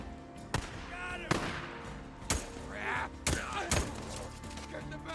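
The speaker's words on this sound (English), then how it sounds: "that's some god-awful firing" Gunfire in Days Gone on PS5, a handful of sharp, loud shots spaced irregularly over a steady game backdrop, with some sounds resembling voices in between.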